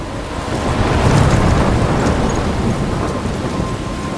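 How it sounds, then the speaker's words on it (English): A thunderstorm in the Life Is Strange video game pours heavy rain in a dense, steady hiss, with a deep rolling rumble of thunder swelling early and wind carried through the constant wash, with no voices. "I'm trapped in a storm?"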